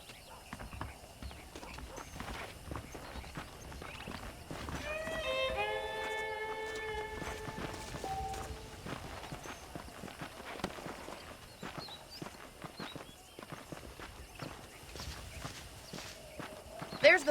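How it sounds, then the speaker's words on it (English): Horse hooves clip-clop in Red Dead Redemption (2010) on Xbox One X, a steady walking rhythm with saddle rattle heard throughout, fairly quiet and close. A neighing horse calls in the middle, and someone talks over parts of it. "The horses are saddled up over here."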